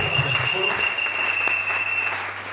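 A church congregation claps in sustained, dense applause with cheering voices mixed in, loud and continuous throughout.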